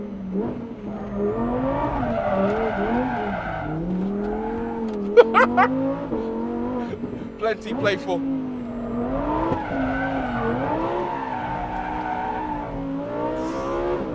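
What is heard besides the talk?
Lamborghini Huracan Tecnica sliding, engine and tire squeal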